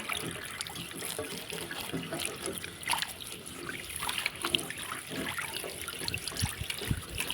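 Faint running water from a tap trickling and splashing while kaffir limes are washed by hand, soft irregular splashes and knocks under a continuous low flow, no talking.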